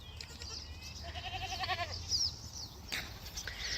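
Baby goats on an off-grid homestead cry with repeated, wavering bleats at moderate distance over a steady outdoor background, with no talking.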